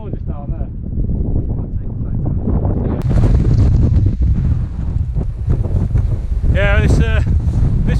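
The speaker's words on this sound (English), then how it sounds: "this wind's going to make things tough" Strong wind buffets the microphone high on the fells of the Mosedale Horseshoe in the Lake District, a loud, constant rumbling roar that almost buries the voices of people talking.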